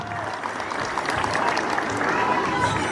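Parents give warm applause at a kindergarten graduation ceremony, a steady, dense wash of clapping from a crowd that holds evenly throughout.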